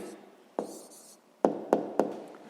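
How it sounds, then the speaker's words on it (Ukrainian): A pen writes down the answer to a sixth-grade maths exercise, a soft scratch of strokes on paper punctuated by four sharp taps of the pen against the page, close and quiet, with no talking. "записуємо тоді відповідь"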